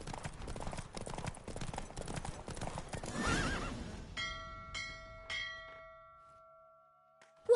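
Galloping horse hooves racing in The Witcher 3, a loud rapid clip-clop rhythm with a brief whinny, ending as bright chiming bell-like tones ring out alone over fading hoofbeats.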